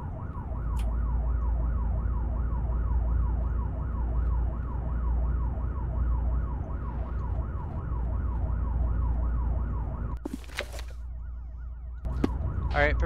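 A wailing vehicle siren in the video game ARMA cycles steadily up and down over a low engine rumble, with a couple of brief sharp noises near the end.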